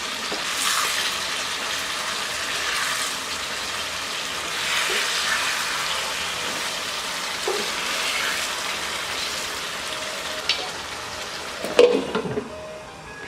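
Fish masala cooking in a covered pan on low heat, a soft steady sizzle and bubbling throughout, with a few clinks and knocks of utensils near the end.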